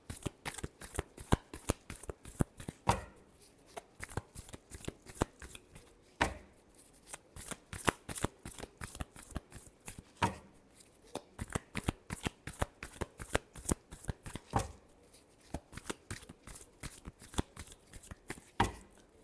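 Tarot cards being shuffled by hand, a steady run of crisp rapid riffling flutters broken by short pauses between passes, fairly close and clear, with no talking over it.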